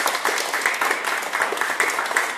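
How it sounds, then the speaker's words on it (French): A group of people applauds together, a dense, steady patter of many hands clapping at close range with no talking over it. "on applaudit tous"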